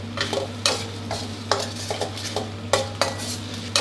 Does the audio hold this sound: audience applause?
no